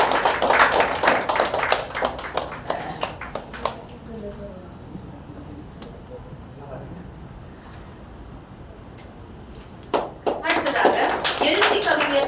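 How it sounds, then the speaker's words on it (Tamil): An audience applauds at a Tamil stage ceremony honouring guests, with a burst of crowded clapping at the start that fades, a quieter stretch with some voice, then the clapping swells again near the end. "கரகோஷத்தோடு"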